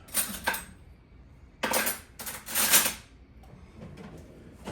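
A big spoon scrapes chunky peanut butter from a jar in a few short, close, dry scraping strokes separated by quiet pauses.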